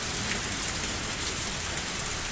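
Torrential downpour in the visual novel game Higurashi When They Cry, a dense, continuous hiss of heavy rain at a steady, fairly loud level with no pauses.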